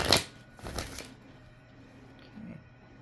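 Tarot cards being shuffled during a reading, two quick riffling bursts close up in the first second, then quiet with a soft faint rustle afterward.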